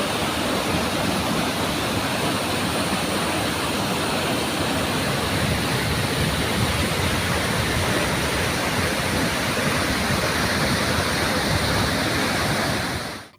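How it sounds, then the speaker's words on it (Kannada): Kapilatirtha waterfall roaring in full spate after heavy monsoon rain, a dense, unbroken wall of rushing water that stays loud and steady throughout, with no voices. "ಕಪಿಲತೀರ್ಥ ಜಲಪಾತ ಭೋರ್ಗರಿತಾ ಇದೆ"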